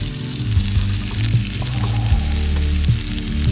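Tomato and onion caramelising in beef fat over a camp stove outdoors give off a steady, close sizzle with crackling and spattering, broken by low thumps of handling, with no voices.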